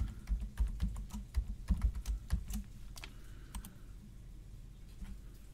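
Rapid keystrokes on a computer keyboard come in dense clattering bursts, then thin out to scattered, isolated clicks. Close and clear, with no voices.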